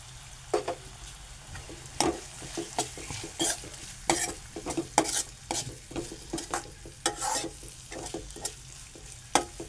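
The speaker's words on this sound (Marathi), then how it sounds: "आपण त्याच्यात लगेच हे जे लाल वाटण आहे, खोबरं आणि लसूण आणि मीठ असं केलेलं वाटण आहे, ते पण आपण टाकू." A red paste of ground roasted coconut, garlic and salt goes into a pan for a cluster bean and potato vegetable dish and gets stirred, with steady close scraping strokes over a light frying sizzle, no talk.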